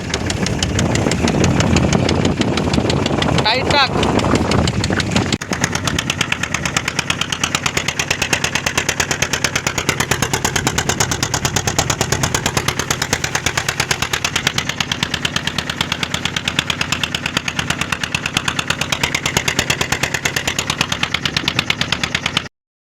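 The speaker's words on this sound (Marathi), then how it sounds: "ही आपली होडी स्टार्ट बघा।" A fishing boat's engine starts and settles into a loud, rapid, steady chugging that runs unbroken throughout, close by, with a brief voice heard early on.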